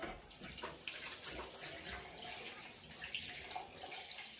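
Tap water running steadily into a sink while a face is rinsed off during a skincare routine, a continuous close splashing hiss with small uneven bursts.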